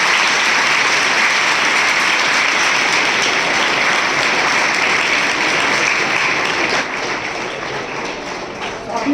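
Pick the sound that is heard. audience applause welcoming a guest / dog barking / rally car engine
audience applause welcoming a guest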